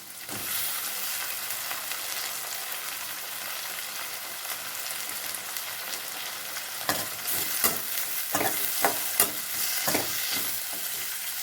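Continuous oil sizzle as tomato and onion sauté, with a spatula scraping and tapping against the pan more often toward the end.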